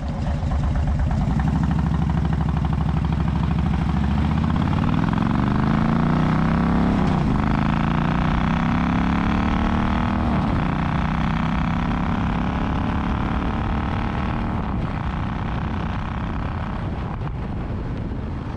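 Royal Enfield Meteor motorcycle engine running steadily and loudly as it pulls away and rides, the pitch rising through gears with wind buffeting the microphone throughout.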